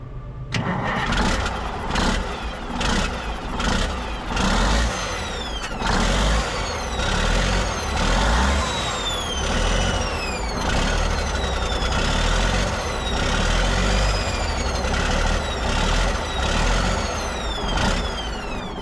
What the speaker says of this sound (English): I can definitely hear this turbo scraping